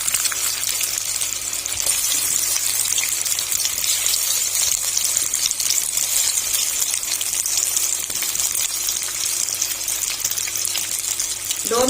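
Chicken pieces frying in oil in a pan for a restaurant-style chicken Manchurian, giving a steady, even hiss and sizzle that runs continuously throughout with no talking over it.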